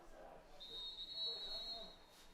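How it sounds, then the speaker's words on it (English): A referee's whistle blows once in a steady, high, thin tone lasting over a second during the fourth quarter of a high school football game, faint against quiet stadium ambience. "And we hear a whistle."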